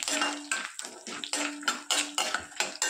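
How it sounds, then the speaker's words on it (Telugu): A spoon stirs a tempering of cumin, mustard seeds, lentils, dried chillies and curry leaves in a metal pan, giving about eight sharp, regular metallic scrapes and clinks, close and clear with no talk. "ఈ విధంగా కలుపుకుంటూ తాలింపును వేయించుకోవాలి."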